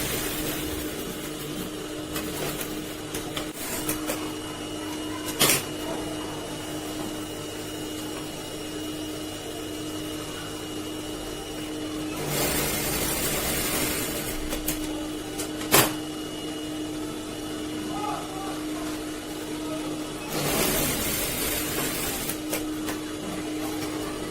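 A sewing machine runs at close range while blouse pieces are joined, giving a continuous mechanical hum with a few louder bursts of stitching and occasional sharp clicks, with no talk.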